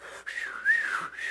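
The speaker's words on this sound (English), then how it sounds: "You could quite literally hear the wind through your television." Wind whistling around an open-air NFL football field during gusts near 40 mph in a Patriots vs Bills game, picked up by parabolic sideline mics: a thin, wavering tone that rises and falls in pitch over a breathy rush, fairly quiet and alone.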